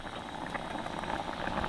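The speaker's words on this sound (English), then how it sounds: "Oh, it's bubbling." Rice bubbling in a saucepan on a gas stove while car camping in a forest, a dense, steady seething and popping of boiling water that carries on evenly at moderate, close level.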